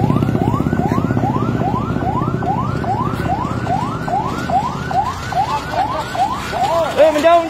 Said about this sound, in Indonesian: Saat ini ambulan juga baru tiba